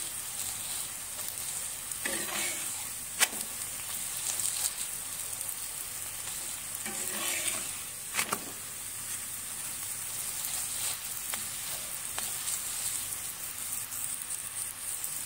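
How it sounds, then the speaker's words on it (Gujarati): Methi thepla roasts on a hot pan with a steady, soft sizzle and crackle, broken by a few faint clicks and light scrapes, and no voices. "બધા થેપલાને આપણે શેકી લઈશું"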